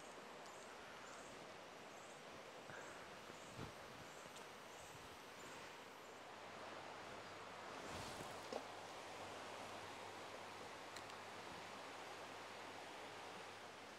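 Rain falling in a forest, a soft steady hiss of drops on leaves, very faint and distant-sounding throughout, with a brief rustle and thump partway.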